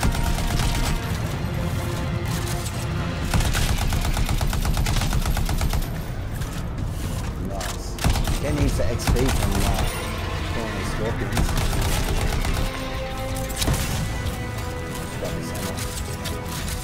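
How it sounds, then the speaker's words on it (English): Dense, continuous weapon fire and explosions from ultimate missiles in the video game Anthem, loud and busy throughout with repeated impact bursts and a game soundtrack underneath. "Pressing RB will use your ultimate, which is the missiles."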